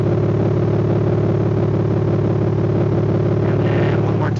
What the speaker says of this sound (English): the idle's come down a little bit. It's warmed up now. So you can see it's got a nice bellow to it.